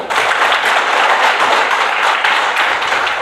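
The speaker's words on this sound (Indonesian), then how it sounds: "ya tepuk tanganmu" A group claps their hands together in loud, dense, continuous applause that stays even for a few seconds, with no speech over it.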